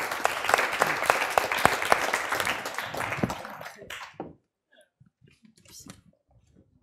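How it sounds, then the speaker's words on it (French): An audience at a cultural forum applauds for about four seconds, dense clapping that thins and stops, followed by quiet room noise with faint rustles. "Je crois qu'on peut vous applaudir."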